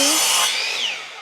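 A saw trims wood for house siding in one short, close rasping stroke lasting about a second, with nothing else heard around it.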